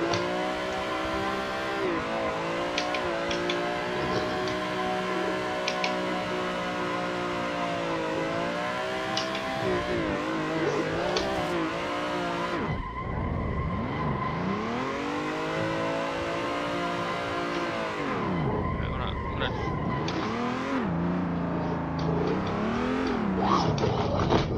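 A BMW E30 drifts around a track in the Assetto Corsa racing sim, its engine droning and revving continuously, with pitch sweeping up and down as the throttle is worked through long slides.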